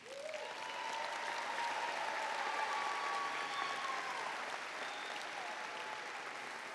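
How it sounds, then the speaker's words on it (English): Sustained applause from a large crowd at a commencement ceremony, a dense wash of clapping that holds steady for several seconds and eases slightly toward the end. "Let's give one final round of applause to recognize our newest Norris alums."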